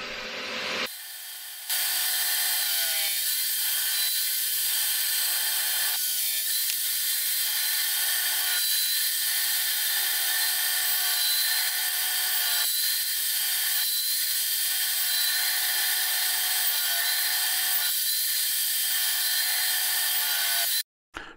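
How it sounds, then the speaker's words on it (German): A table saw cuts a 7 x 10 mm rabbet into 30 x 14 mm wooden picture-frame pieces. A loud, steady high-pitched whine runs throughout, with periodic dips in tone as the blade bites into the wood. "Nun wird der Falz mit der Tischkreissäge gesägt."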